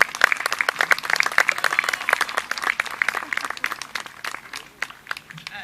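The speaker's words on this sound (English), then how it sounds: "Anne Reid did not get a proper round of applause for her declaration, reading of the Declaration, so great job, Anne." Audience applause after a reading of the Declaration of Independence at an Independence Day readings and concert event in Orange, MA: dense, steady clapping from a sizable crowd that lasts the whole stretch and thins slightly toward the end.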